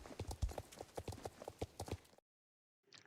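Horse hooves clip-clopping in a quick, regular rhythm, close and distinct for about two seconds, then a brief silence and a faint trailing sound.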